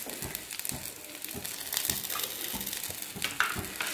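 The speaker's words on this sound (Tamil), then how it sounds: "இது அப்படியே சிம்பிள் ஒரு ரெண்டு நிமிஷம் ஃப்ரை ஆகட்டும்" Bread cutlets frying in hot oil in a pan give a steady, soft sizzle and crackle with scattered small pops, low and even for several seconds with no voices.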